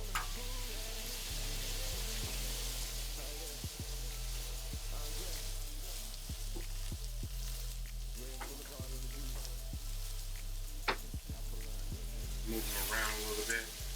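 Rinsed food sizzles and fries steadily in a hot pan, a loud continuous crackle with occasional stirring clatter and brief bursts of spatter, while people talk faintly in the background.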